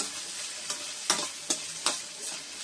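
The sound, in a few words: mustard seeds sizzling in oil for tempering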